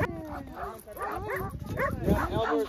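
Sled dogs in Alaska yip, bark and whimper in quick repeated bursts, close and fairly loud, with short high whines rising and falling between the barks.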